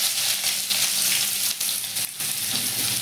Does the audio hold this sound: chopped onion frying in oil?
yes